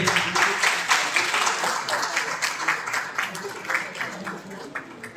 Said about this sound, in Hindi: एक और इनके लिए भी ताली बजनी चाहिए।